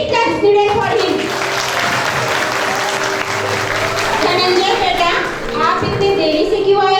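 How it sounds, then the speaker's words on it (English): A classroom of children at a Children's Day celebration claps loudly and continuously for a late-arriving boy, with kids' voices and an adult talking over the applause. "Big claps needed for him."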